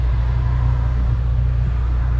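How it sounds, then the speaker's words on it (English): A car engine hums steadily with a deep, low rumble as the vehicle cruises along back roads on Kenda KR20A tires, close and continuous with no voices. "I'm going to take the car on a little bit of a back roads drive."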